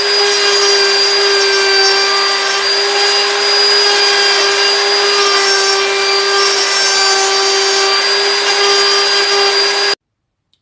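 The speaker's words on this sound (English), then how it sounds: "Let's start routing out." A wood router cuts a small tribal mask, a steady loud high-pitched whine with strong tonal harmonics holding for about ten seconds before stopping abruptly; no talking.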